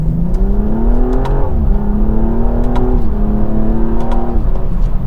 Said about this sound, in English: we're in second gear and just floor it.